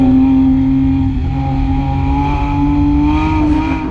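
A Porsche 911 GT3 driven hard through a corner, its engine holding a loud, steady high-revving tone with a slight rise toward the end, heard close from inside the car.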